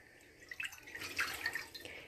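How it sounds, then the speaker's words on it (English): Pre-boiled water is poured into a pan on a kitchen stove, a faint splashing trickle that swells and ebbs for a couple of seconds. "I put the water in here. I already boiled that earlier. And then I add that into the pan."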